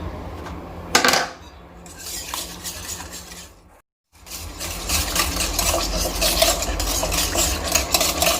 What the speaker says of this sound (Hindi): दही को मिक्स करेंगे